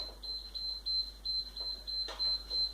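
A rapid series of high, thin electronic aiming beeps repeats in a steady rhythm, fairly quiet, with a soft bump partway through.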